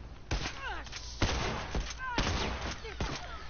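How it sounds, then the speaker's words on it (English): Rapid bursts of gunfire in The Last of Us multiplayer, several sharp volleys spaced across a few seconds at moderate volume, with a person talking over the shooting. "Stop shooting at me."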